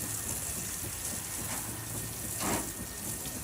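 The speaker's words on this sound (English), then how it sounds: "turn the wash station on, and now we've got product to be able to rinse the exterior of the vehicles" A vehicle wash station sprays water in a steady, hissing rush that stays constant throughout, with a slight surge near the end, fairly close and moderately quiet with no voices.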